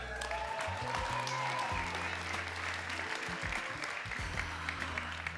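A crowd applauds graduating bachelor students at an end-of-studies celebration, with sustained loud clapping, some cheering and a few voices mixed in.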